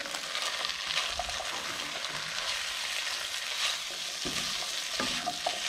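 Vegetable fried rice is stir-fried in a pan over a low flame, a constant close sizzle layered with repeated scraping stirs and light clinks, with nobody speaking.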